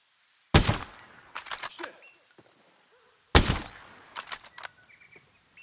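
Two loud, sharp bursts of gunfire from Ghost Recon Breakpoint ring out about three seconds apart, each one followed by trailing echoes and smaller cracks that die away into quiet.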